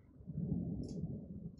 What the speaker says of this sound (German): Gewitter! Nö!